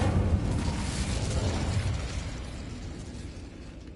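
Incendio fire spell cast in Hogwarts Legacy, a loud whooshing burst of flame at the start that rumbles and fades out over a few seconds.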